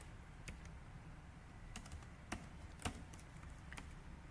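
Keys clatter on a computer keyboard while lines of Python code are written, in quiet, irregular bursts of taps with a few sharper, louder strokes standing out.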